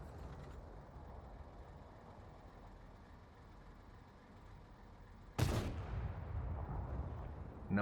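Tank cannon shot in World of Tanks on console, one loud sudden boom midway over a steady low rumble of engines and battle ambience, with a long decaying echo and a second blast beginning at the very end.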